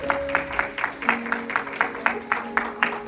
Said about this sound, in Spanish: Vamos a darle un fuerte aplauso al Padre, al Hijo y al Espíritu Santo